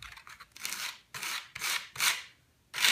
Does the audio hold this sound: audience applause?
no